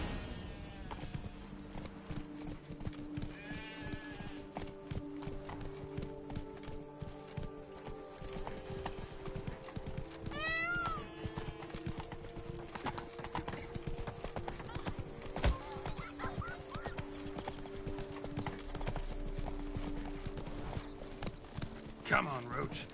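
Steady clip-clop of Roach the horse's hooves in The Witcher 3, under spoken character dialogue and background music, with a brief horse whinny partway through.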